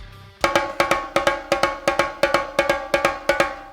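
A steady, even run of about a dozen bright, ringing strokes on a single drum, evenly spaced and close, with no voices.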